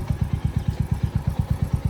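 A Suzuki Intruder motorcycle engine idles up close, its steady, even low thumping pulses repeating rapidly with no talk over it.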